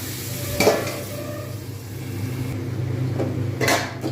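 Ground coriander, cumin and fenugreek stirred into pointed gourd frying in a pan, a soft background sizzle with two distinct scraping strokes of a spatula against the pan, close and clear, no voices.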